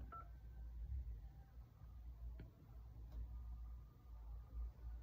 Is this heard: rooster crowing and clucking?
no